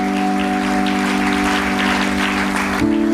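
A congregation at a Spanish-language church service claps continuously as a group, broadband and fairly loud, over sustained organ or keyboard tones that shift pitch near the end.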